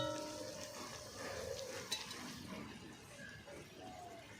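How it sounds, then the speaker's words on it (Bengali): Malpua pitha, a sweet Bengali fried cake, sizzles steadily in hot oil in a pan just after being flipped, a continuous close frying hiss with a faint utensil clink midway. "এটাকে উল্টে দিচ্ছি যাতে দুই সাইড থেকে সুন্দরভাবে ভাজা হয়ে যায়"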